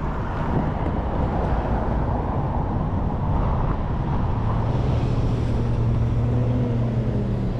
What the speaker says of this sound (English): It's a pretty busy street, but it's not too bad.